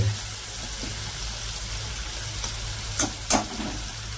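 Tomatoes and carrots sauté in a pan for Indian-style masala pasta, giving a dense, steady sizzle up close with a couple of brief utensil clatters near the end.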